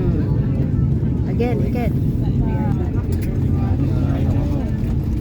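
An airplane landing at an airport in the Philippines, heard from inside the cabin as a loud, steady roar with wind buffeting, while people talk over it.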